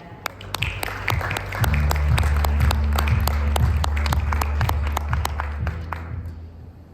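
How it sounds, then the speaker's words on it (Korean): Audience applause fills a hall at a Korean blockchain conference, steady dense clapping building and holding loud for several seconds before tapering off near the end. "여러분 힘찬 박수 부탁드리겠습니다."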